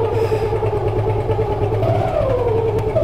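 A motorcycle engine idles steadily and close by as the bike is wheeled out of the house, a continuous low rumble with no talking over it.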